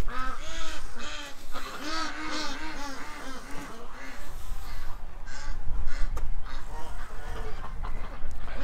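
A flock of ducks quacks loudly and close during feeding time, with overlapping, rapid nasal calls that come in busy bursts and continue throughout.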